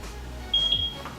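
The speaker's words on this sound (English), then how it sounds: "once you guys hear that beep, you guys want to click on next." A single high electronic beep from a camera after its sync button is held for two seconds, short and clear over faint room hum, with no voices.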